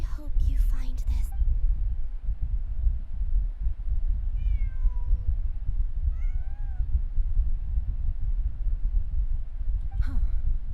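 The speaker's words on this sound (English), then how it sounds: "Huh. Just a cat." A cat meows twice in the video game Genshin Impact, thin, rising and falling calls heard mid-distance over a steady low game ambience, with brief other sounds at the start and end.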